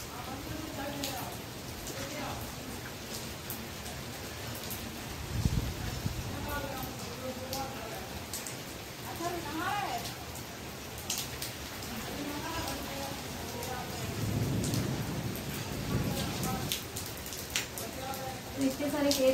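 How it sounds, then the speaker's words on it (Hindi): Heavy rain of the season's first downpour falls steadily on a garden and surfaces, a dense continuous patter with splashes, while someone talks over it. "कितना पानी गिर रहा है"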